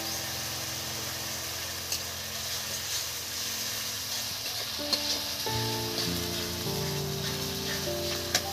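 Green chili, ginger and garlic paste sizzling in a pan for doi katla, a faint steady frying hiss with soft stirring scrapes and occasional clinks, quiet throughout.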